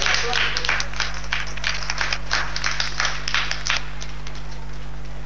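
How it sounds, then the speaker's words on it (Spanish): Applause for the mayor and councillors at an inaugural ceremony for a school computer program, a crowd clapping steadily at moderate volume, fading slightly toward the end over a low hum. "un aplauso para el alcalde, los concejales, todas las autoridades"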